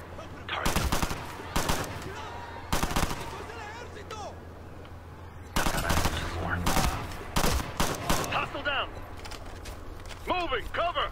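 Bursts of automatic gunfire in the video game Ghost Recon Future Soldier, several loud clustered volleys spread across the stretch, with players talking between and over the shots.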